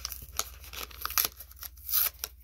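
Scissors snip and tear through lip balm packaging, producing a series of sharp crinkling cuts and rips at close range, irregular and uneven in rhythm, with short quiet gaps between bursts.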